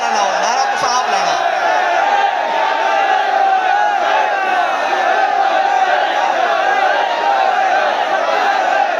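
A large crowd at a Karachi election political rally roars and chants slogans together, a dense, continuous wall of massed voices that stays loud and steady throughout.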